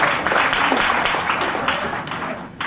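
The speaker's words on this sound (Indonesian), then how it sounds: "Berikan tepuk tangan." Church congregation clapping, loud, dense and steady throughout, with a slight surge near the end.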